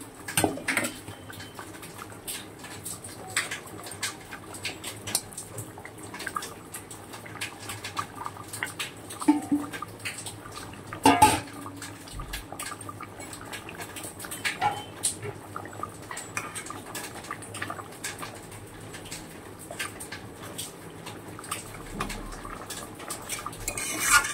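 Fish being added to a pan and cooked, with dishes clattering, utensils scraping and stirring, plus a louder knock near the middle; steady and close with no talking.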